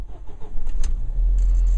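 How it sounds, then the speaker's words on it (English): Car engine started with the ignition after a stall: a brief cranking stutter, then the motor catches and settles into a steady, close, loud idle rumble. "now we will restart the car"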